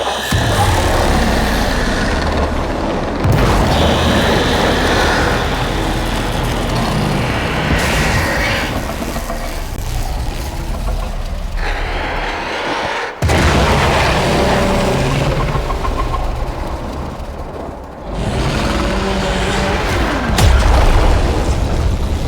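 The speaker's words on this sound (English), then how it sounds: "There should be useful detritus falling from the explosion." Continuous loud booming rumble of game explosions and heavy blasts in Warframe, sustained for the full stretch with a couple of sharp cutoffs and fresh bursts, dense low-end roar throughout.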